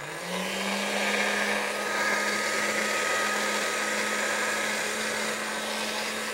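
A hand-cranked or motorized pasta machine rolls lasagne dough thin at its thinnest setting of 7, giving a steady, close mechanical whir with a low hum throughout and no talking.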